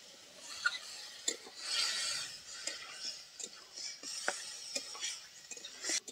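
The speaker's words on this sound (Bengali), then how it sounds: "এবার নেড়ে নেব।" Chicken masala curry with banana stem, turmeric and a little water stirred in a pan, heard as soft scraping and rasping strokes with occasional light clinks of the utensil, moderately close and steady over several seconds.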